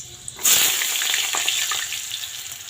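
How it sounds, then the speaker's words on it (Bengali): Vegetables tipped into hot oil tempered with panch phoron, bursting into a loud sudden sizzle that settles into a steady frying hiss with small crackles, gradually easing; no speech. "সবজিগুলো ঢেলে দিচ্ছি"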